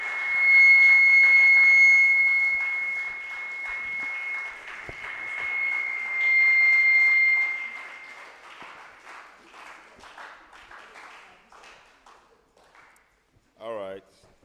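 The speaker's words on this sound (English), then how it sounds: "Just keep clapping, keep clapping." An audience at a secondary school debate competition claps loudly, swelling and dipping in waves before thinning into scattered claps, with a brief tone and a short final burst.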